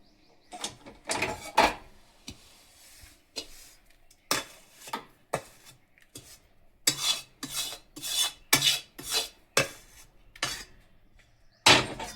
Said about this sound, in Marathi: आता मी याच्यात हे मिश्रण सगळं ओतून व्यवस्थित पसरवून घेणार आहे